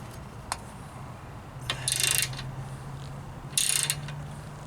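Rivnut insert being tightened with a homemade install tool, giving faint ratchety mechanical clicks and two brief louder scraping bursts over a low steady hum, close and alone.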